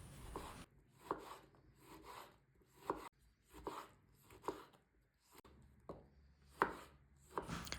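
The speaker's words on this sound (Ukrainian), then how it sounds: "Далі я беру 300 г помідорів і також нарізаю середніми шматками." A knife chops tomatoes steadily on a cutting board, with repeated sharp knocks in an uneven rhythm, close and clear with no talking.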